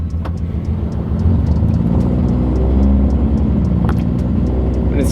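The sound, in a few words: Datsun 280z engine idling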